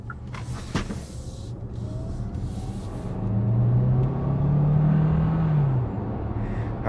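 A 2022 Hyundai Tucson Limited PHEV AWD accelerating as its gasoline engine starts up: a low, steady hum that swells in the middle and holds, with cabin road rumble throughout and no talking.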